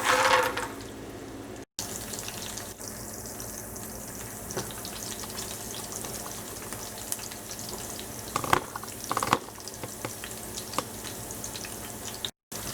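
Green chilies and peanuts hit hot oil with mustard seeds for poha, giving a loud, continuous sizzle with brief crackles, stirring scrapes and a few short dropouts along the way.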